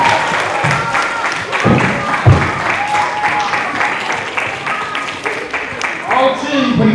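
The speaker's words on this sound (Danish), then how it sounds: "Skal vi lige klappe dem i gang?" Audience clapping and cheering at a festival to kick off a drawing contest, lively and close, with voices talking over the applause and a few louder thumps.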